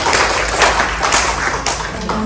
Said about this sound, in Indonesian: Beri tepuk tangan meriah